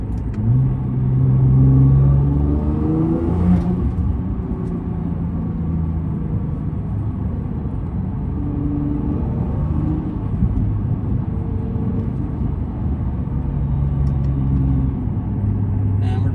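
A Nissan GT-R cruises in its normal drive mode, its engine a steady, close rumbling drone with shifting tonal hum and road noise throughout, swelling slightly early on before settling into an even cruise.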